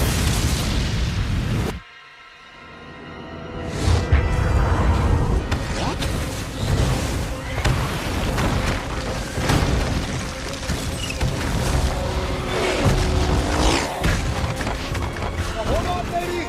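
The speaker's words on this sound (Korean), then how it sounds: "이후 옐로스톤 국립공원의 화산 폭발신" A Yellowstone volcanic eruption scene in a disaster film plays as dense, loud roaring and crashing debris, broken by a brief near-silent pause before it surges back with continuous booms and rumble.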